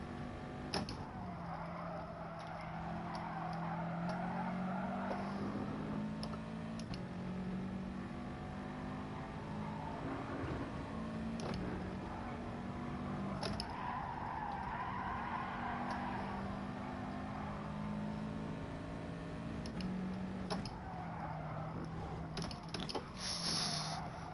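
Racing car engine in the Gran Turismo Sport video game, droning steadily throughout with shifting pitch as the car accelerates and lifts off, at a moderate level without talk.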